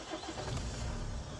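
A Renault Megane GT, started without its key card, turns over and its engine catches, a dense, short burst of close engine noise and rumble.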